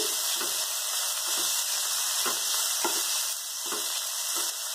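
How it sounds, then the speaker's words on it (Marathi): Dal roasts with turmeric in a pan, a continuous dry sizzle broken by regular scraping strokes of a spatula, fairly close and steady with no talking. "डाळ हळद छान थोडंसं भाजून घ्या"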